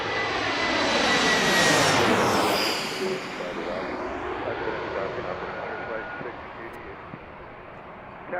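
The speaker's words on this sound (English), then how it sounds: "it looks like Southwest is coming out to take off" A Southwest jet airliner roars loudly on takeoff at Washington's DCA airport, the engine noise swelling and then slowly fading as it passes, heard from outdoors at Gravelly Point.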